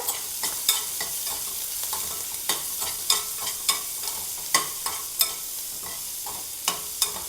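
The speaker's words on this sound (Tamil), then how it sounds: "அந்த வெங்காயம் பச்சை மிளகாய் போட்டுடலாம். போட்டு வதக்கிக்கோங்க." Chopped onion and green chilli sautéing in a pan for a Nagercoil-style narthangai pachadi: a steady close sizzle, broken by the regular scrape and tap of a stirring spoon against the pan, with no talking.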